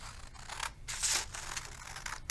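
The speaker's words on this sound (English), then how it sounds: "Now it's time to get out my scissors. What we do is when we cut out a sort, we cut out this big box first." Scissors snipping through a paper word-sort sheet for short vowels a and o, a steady run of crisp close cuts and light paper rustles at low level, with no talking.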